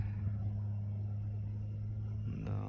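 A 200-horsepower tractor pulling a three-metre cultivator across wet field ground gives a steady, close, low engine drone that holds level throughout, with a brief knock near the end.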